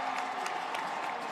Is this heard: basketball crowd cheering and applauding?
yes